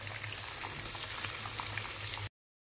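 Chicken pieces frying in hot oil on a high gas flame, a steady bubbling sizzle heard close and unbroken for about two seconds before cutting to silence.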